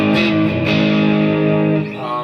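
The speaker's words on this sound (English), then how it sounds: "Just a Strat running through the clean channel on an Engater Tweaker 15 with the gain about halfway up" A Stratocaster electric guitar through the clean channel of an Engl Tweaker 15 amp with the gain halfway, slightly crunchy with a touch of hall reverb, rings out as one sustained chord that decays after about two seconds.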